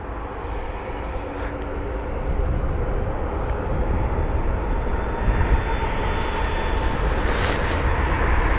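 A jet airliner roars at London Heathrow airport as planes turn in to land and push back, a broad, loud engine rumble that swells slightly after a couple of seconds and holds steady, heard alone.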